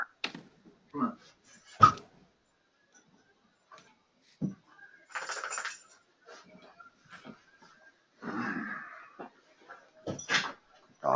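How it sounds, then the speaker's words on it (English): A dog having a seizure at home produces irregular thumps, scrabbling and clattering bursts separated by quiet gaps, with brief whimpering sounds, close and moderately loud. "dog's having a seizure again"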